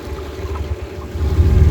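A small boat on the water off Sri Lanka gives a low, rolling motor-and-hull rumble mixed with wind and lapping water, swelling louder toward the end.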